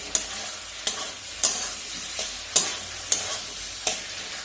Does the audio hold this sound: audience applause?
no